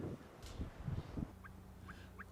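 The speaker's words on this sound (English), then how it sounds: "We pass a wild Nepalese pheasant." A wild Nepalese pheasant calls on a Himalayan mountain trail near Namche, giving a few short, faint clucking and chirping notes amid quiet outdoor ambience.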